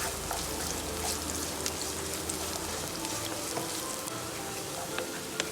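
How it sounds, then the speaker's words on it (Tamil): Finely chopped onion sautés in hot oil in a pan for restaurant-style red pasta, giving a steady, dense sizzle with crackling pops throughout and no voice over it. "சேர்த்துட்டு நல்லா வதக்கி விட்டுக்கோங்க."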